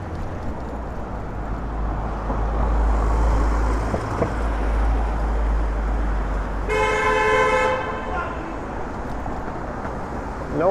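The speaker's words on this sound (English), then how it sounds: "Hence the honk." A car horn gives one sustained, loud honk in downtown Toronto traffic, about a second long, over a steady rumble of engines and road noise from the moving vehicle.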